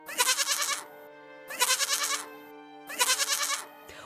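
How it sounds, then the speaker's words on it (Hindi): A goat bleats three times in long, wavering, nasal cries spaced evenly apart, loud and close, with quiet gaps between them and no talk. "अचानक मेरे मुंह से बकरी की आवाज आने लगी"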